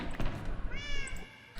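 A person mimics a cat with a short, nasal meow, voiced close up over faint room noise while playing Minecraft survival mode.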